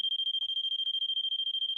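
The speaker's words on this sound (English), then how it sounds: "the alarm goes off, hold it right there, the alarm goes to sleep" A Poolguard PGRM-SB above-ground pool alarm sounds a loud, piercing, rapidly pulsing electronic beep, repeating about a dozen times per second without pause, close up.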